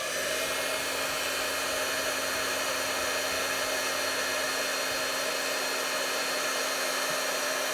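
A heat embossing tool blows over a die-cut card with a loud, steady, continuous whir like a hair dryer, close and unbroken throughout.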